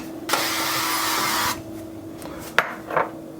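Cooking spray hisses onto a mini loaf pan in one steady burst of about a second, close and fairly loud, followed by a couple of faint clicks and taps.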